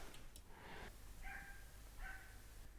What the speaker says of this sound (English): A dog has been barking for the longest time in the background